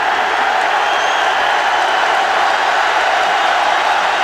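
Dense, steady roar of a large college football stadium crowd at an Ole Miss home game against Florida, a broad wash of cheering and noise that stays loud and unbroken throughout without clear individual voices.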